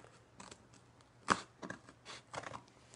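Scissors snip through a paper slip on a Fitbit box, one crisp cut followed by a few softer rustles and handling noises, quiet and close.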